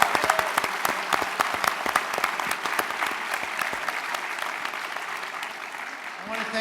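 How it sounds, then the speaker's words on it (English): Applause for a moderator at an evening panel discussion on the Iran deal, with sharp individual claps standing out at first, then settling into steadier clapping that thins toward the end as a voice returns. "another round of applause for our moderator"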